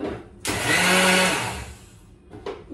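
A mixer grinder grinding sugar whirs loudly for about two seconds, then cuts off, followed by a short second burst.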